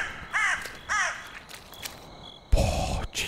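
Crow cawing in The Cursed Forest, a horror video game: two harsh caws in quick succession, then fainter rustles and a sudden loud thump near the end, without talk.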